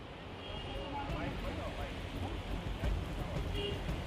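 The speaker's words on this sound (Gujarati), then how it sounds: "ધોધમાર વરસાદ 1 કલાકથી પડી રહ્યો છે" Heavy downpour in Ahmedabad near the flooded Mithakhali underpass, a dense continuous hiss of rain with faint talk mixed underneath.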